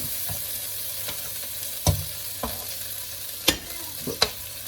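Noodles stir-fry in a pan under a constant soft sizzle, broken by several sharp scraping strokes of a utensil against the pan at uneven intervals, with no voices.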